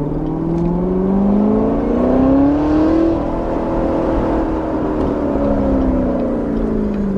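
A modified 1965 Corvette Z06 engine revs up and holds a rising, throaty roar, pitch climbing then easing back, loud and steady throughout with no voices.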